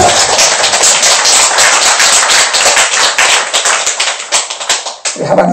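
Congregation clapping together in a church service, a dense run of quick, loud claps that keeps going without a break and thins out toward the end.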